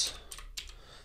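Commands typed on a computer keyboard on a Mac, three quick, crisp key clicks in about a second, close and fairly quiet.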